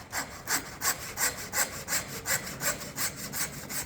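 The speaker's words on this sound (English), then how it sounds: "Really easy with a handsaw." Handsaw cutting through the bone of a butchered hog, about a dozen steady rhythmic back-and-forth strokes, close and clear with no talk.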